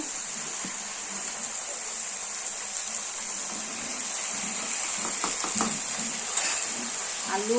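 Potatoes tipped into a hot pan of vegetables for a home-cooked dish, giving a steady close sizzle of frying with scraping stir strokes and a few clinks, no voices.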